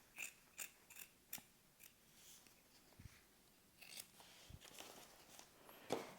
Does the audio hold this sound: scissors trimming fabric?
yes